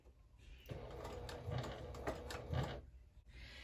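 A sewing machine back stitching a seam on a crossbody bag, a quiet mechanical whirring burst of about two and a half seconds with rhythmic needle pulses between softer pauses, with no talking.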